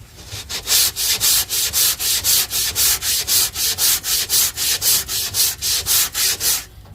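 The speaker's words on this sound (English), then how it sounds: "you're sanding across here" Long sanding block fitted with 40 grit discs rubbing flat across a car body panel, a loud, close, steady back-and-forth rasp of about twenty rhythmic strokes with no talking.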